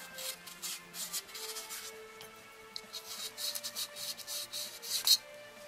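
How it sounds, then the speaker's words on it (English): Wet sanding a plastic Bandai Jibanyan model kit part by hand with 1000 grit sandpaper gives soft, close rubbing strokes that repeat in an uneven rhythm, faint throughout. "I'm just going over this with 1000 grit to wet sand"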